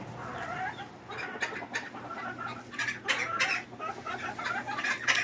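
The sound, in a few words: backyard chickens clucking in coop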